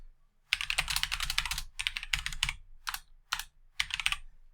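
Rapid bursts of keystrokes on a computer keyboard while typing a comment into a DAX formula, close and crisp, in several quick runs separated by short pauses.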